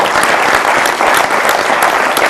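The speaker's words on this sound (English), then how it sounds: "A round of applause, please, to them." An audience at a Kenyan leadership forum on manufacturing gives the panelists a loud, continuous round of applause, sharp individual claps standing out in the close, even wash of hands.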